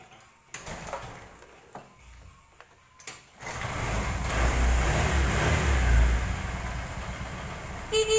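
A carbureted Honda Vario 110 scooter with an idle fault: after a few light clicks and taps, the engine starts and revs up into a loud, sustained, rising drone that holds for several seconds, close up, ending with a short sharp burst.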